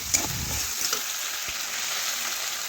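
Potatoes with chopped tomato and mustard-poppy paste stirred in a pan, a continuous close sizzle with a couple of soft spatula knocks.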